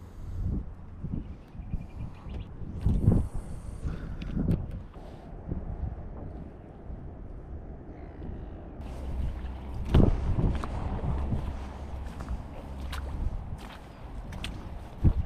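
Gusty wind rumbles and buffets steadily across a land-based estuary fishing spot, with louder gusts rising and falling throughout.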